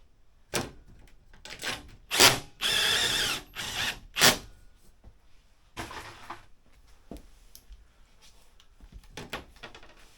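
Power drill driving screws to fix corner trim onto a jacket: several short bursts of whirring and ratcheting, close and distinct, with quieter handling clicks in between.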